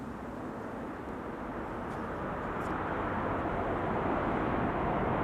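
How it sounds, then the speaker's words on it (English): Airliner thrust reversers roaring on landing at Amsterdam Schiphol Airport, a steady, loud broadband rush of jet noise that swells slightly over a few seconds without pause. "let's listen for the reversers."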